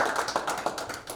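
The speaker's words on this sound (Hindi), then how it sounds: "उनके सम्मान में जोरदार तालियां बजाई यार" Audience at an Indore kavi sammelan poetry recital claps for the poet, brisk, uneven handclaps with distinct sharp hits standing out from the crowd, fairly close and continuous for the whole short stretch.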